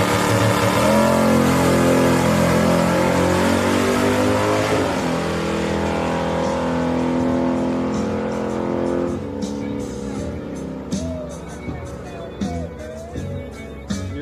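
ProCharger-supercharged car at a drag strip test-and-tune night in Houston, Texas, with a loud, close engine roaring and climbing in pitch during hard acceleration before easing off, and people talking over it.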